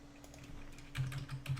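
Someone types on a MacBook keyboard. A short burst of quiet, close keystrokes clicks in quick succession.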